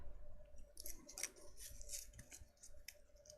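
Scissors snip through craft flower wires, several crisp close cuts and clicks in quick succession with light handling noise between them.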